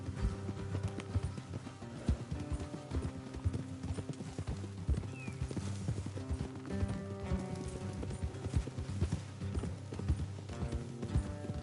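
Horse hooves clip-clop in a steady trotting rhythm throughout, with a faint mechanical hum and a brief whinny in the background, in the video game Red Dead Redemption 2.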